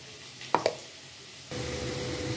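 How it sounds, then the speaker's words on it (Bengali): Taro (gatti kochu) frying in oil, a soft steady sizzle with a couple of brief clinks, the sizzling growing fuller and louder partway through. "এবার কচুগুলো আমার প্রায় লাল লাল হয়ে ভাজা হয়ে এসছে"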